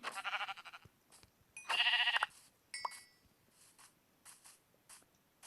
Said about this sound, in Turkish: Aa, koyun. İki tane.